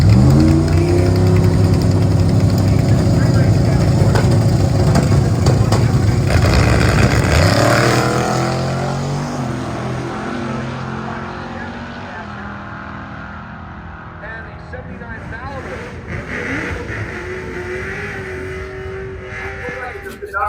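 Plymouth Valiant drag racing cars launch at Cordova Dragway with a loud, thunderous engine roar that holds for several seconds, then recedes into a fading drone, with a voice talking over it.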